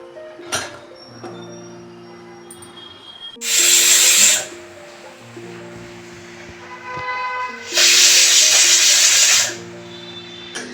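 Two loud bursts of steam hissing from a pressure cooker whistle while cooking ivy gourd masala curry, each lasting about two seconds, separated by quieter tonal kitchen sounds.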